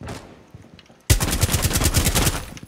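Gunfire in Rainbow Six Siege on the Coastline map: after a quieter second, a loud close burst of rapid automatic shots rattles on steadily to the end.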